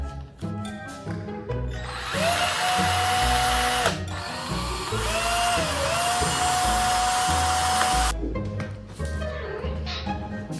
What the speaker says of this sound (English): we're gonna see if I'm able to drill a hole into it.